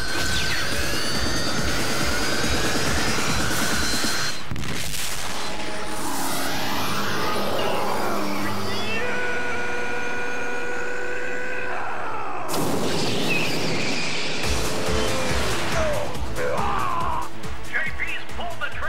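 Racing cars speed through a race in the Redline anime, with roaring, whooshing engine noise, rising and falling pitch sweeps and loud blasts. A brief quieter gap breaks the continuous, dense sound near the middle.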